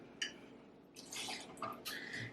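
Crown Apple whisky is poured into a cocktail glass, giving a brief splash followed by short gurgling liquid bursts, close and quiet.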